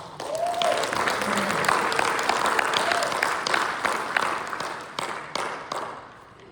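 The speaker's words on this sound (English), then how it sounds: "Give yourself a round of applause." Conference audience applause rolls on steadily at moderate volume, a dense wash of clapping from many hands that gradually eases and tapers toward the end, with a voice faintly present.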